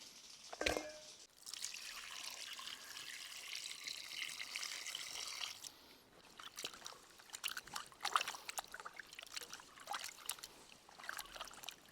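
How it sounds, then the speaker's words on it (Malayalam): Beef bones are rinsed under running water for a jackfruit biryani, a faint, continuous splashing stream with occasional clunks and shifts as the bones are handled. "പോത്തിൻ്റെ എല്ല് നമുക്ക് വൃത്തിയായിട്ട് കഴുകിയെടുക്കാം"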